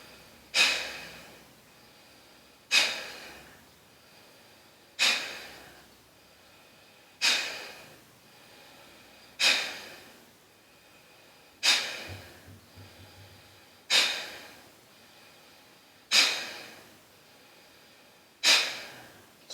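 Forceful bellows breathing of Bhastrika pranayama: nine or so sharp, loud nasal exhalations at an even pace about two seconds apart, each fading quickly, close and alone.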